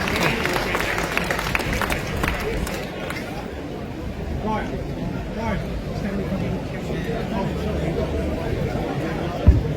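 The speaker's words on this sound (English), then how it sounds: "please give a massive, massive round of applause for Elizabeth Harper" Audience applause for Elizabeth Harper at a public talk, with scattered clapping mixed into crowd chatter and murmuring voices, and a bumpy, handled-microphone rumble underneath.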